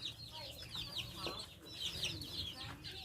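Chickens cluck in a busy, overlapping chatter on a farm, fairly faint and steady throughout, with some indistinct background noise.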